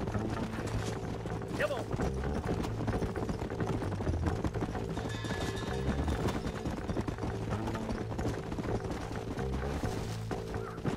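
Horse hooves clop along steadily in the video game Red Dead Redemption, a rhythmic beat mixed under game music and ambient sounds, with voices talking over it.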